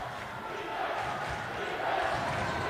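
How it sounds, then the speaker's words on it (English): Home crowd at a high school boys basketball game, Lone Peak at Skyridge, cheering in a steady, swelling roar through a gym that rises toward the end, with no voices standing out. "Home crowd now picking it up."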